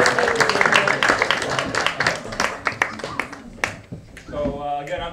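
House concert audience applauding at a west Philadelphia benefit: a short burst of close, dense clapping that fades within a few seconds, followed by talking.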